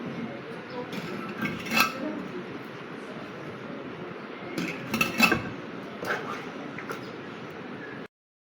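Mango and Naga chili pickle in oil being spooned into a jar, with a few sharp clinks of utensil against glass around a soft, steady background rustle.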